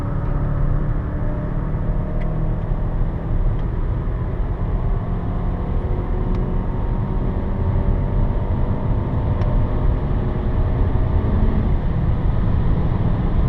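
A car accelerating on a racetrack, heard from inside as a continuous loud, steady engine drone and road rumble with no pauses and no voices.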